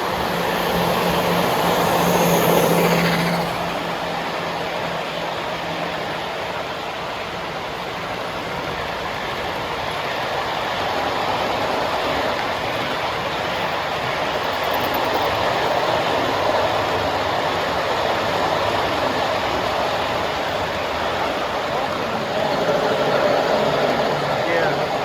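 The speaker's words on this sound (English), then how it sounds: "Look at this train." Large-scale model train from the Hudson Valley Large-Scale Railroad Club running at the Big E train show in Springfield, Massachusetts, a steady rumbling roll under loud, constant hall crowd noise and chatter.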